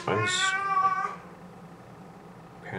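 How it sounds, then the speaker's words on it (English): A house cat meows loudly and close by in a short harmonic call lasting about a second, trailing into quiet room tone. "my cat wants to go outside"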